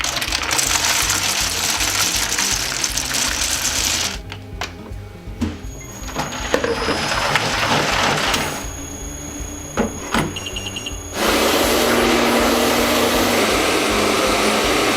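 A Trittico Executive Evo machine runs a ganache program with a steady, loud mechanical whir and hum, some clicks and a drop in level midway, then a strong continuous churning roar.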